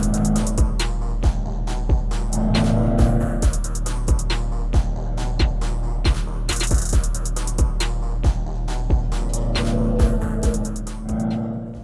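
A 2025 Dodge Charger EV plays a simulated V8 engine sound inside a tunnel: a loud droning rumble punctuated by sharp, regularly spaced pops throughout.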